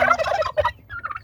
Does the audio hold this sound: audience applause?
no